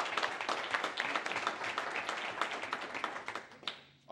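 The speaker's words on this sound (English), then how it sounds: "So we give a round of applause for James Todd." A city council meeting audience applauds a forestry crew leader's years of service with a steady patter of many hands clapping at moderate distance, which thins and fades out at the end.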